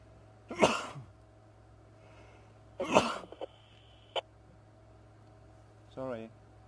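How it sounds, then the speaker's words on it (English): A person sneezing inside a vehicle on a safari drive: two sharp, loud bursts roughly two seconds apart, then a short click and a brief voiced sound, over a faint engine hum. "Don't look at me like that because I'm sneezing."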